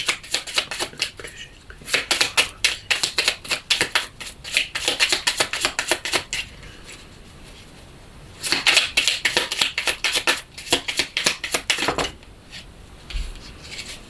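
A deck of fairy oracle cards being shuffled and drawn, rapid papery riffles and slaps in close, repeated bursts with short pauses between them.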